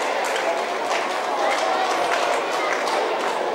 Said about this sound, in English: getting a cheer and a round of applause from the audience, as have all the breeds